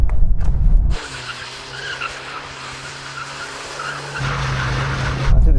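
Tires skid and squeal continuously as a Volkswagen Golf R slides around with its stability control turned off, a loud sustained screech over the engine for several seconds.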